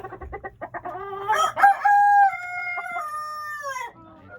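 Breeder chickens cluck in quick short bursts, then a rooster lets out a loud, drawn-out crow close by, trailing off at the end, with no voices.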